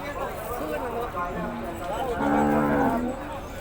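Cattle low and moo repeatedly at a busy livestock market in Yasothon, Thailand, close and fairly loud over a constant background of crowd chatter and voices.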